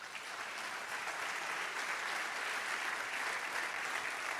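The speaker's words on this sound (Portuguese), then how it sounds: "Vamos dar uma salva de palmas para o Senhor." A church congregation applauds together in praise, a steady, even wash of many hands clapping at moderate distance, sustained throughout without any voices.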